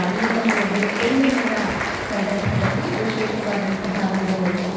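Applause at an inauguration ceremony where a sapling is watered, a crowd clapping steadily and loudly for several seconds, with some voices mixed in.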